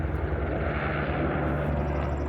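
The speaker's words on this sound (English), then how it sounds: "Here comes a helicopter. There goes a helicopter." A low-flying helicopter carrying a boom at the front passes over a farm, heard as a steady, continuous low engine and rotor drone that swells slightly in the middle and stays fairly loud throughout.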